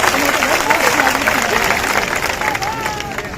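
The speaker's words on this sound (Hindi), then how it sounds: "उनका हम सभी लोग ताली बजा के स्वागत का अभिनंदन भी करते हैं" A crowd at a BSP political rally in Rewa claps to welcome a speaker, with dense, sustained applause mixed with crowd murmur and a voice talking over it.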